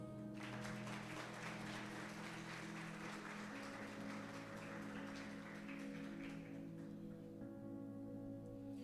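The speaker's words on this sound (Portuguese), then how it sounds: "Você pode aplaudir o Senhor?" A church congregation claps together in a dense, even patter, with sustained organ-like tones underneath and the clapping thinning toward the end.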